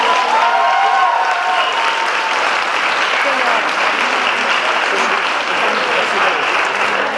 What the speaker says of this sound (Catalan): Un aplaudiment a Rània.